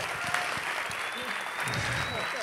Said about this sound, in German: Mal einen Applaus für euch, ihr habt echt gut geschwitzt.